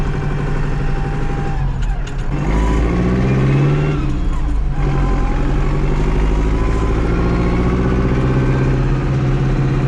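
A farm tractor engine running steadily on a Polish farm, a loud low continuous rumble with shifting harmonic pitch as it revs slightly, heard close with no talk over it.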